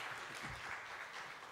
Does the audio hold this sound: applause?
yes